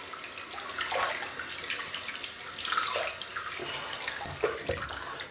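Water runs steadily from a bathroom tap to wet a shaving brush, a close, constant splashing hiss with small bursts where the bristles meet the stream.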